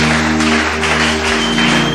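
A church congregation claps in a steady, dense wash of applause over sustained instrument tones, loud and continuous for about two seconds, with no clear speech.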